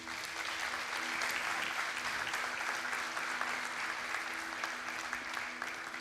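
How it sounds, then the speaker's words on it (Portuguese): A church congregation breaks into steady applause, a dense, continuous patter of many hands clapping at even loudness throughout, with a faint low hum underneath. "Quem pode dar uma salva de palmas para Jesus?"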